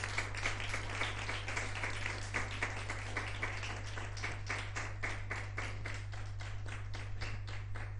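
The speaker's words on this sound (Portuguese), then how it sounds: "Dê uma grande salva de palmas a Jesus" A church congregation claps together at a Sunday service, a dense, steady burst of applause lasting throughout, with a constant low hum underneath.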